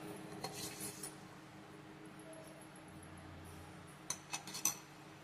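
A spoon stirs a milk rusk and ghee mixture in a dish, giving soft scraping under a quiet room hum and then a few sharp clinks against the dish near the end.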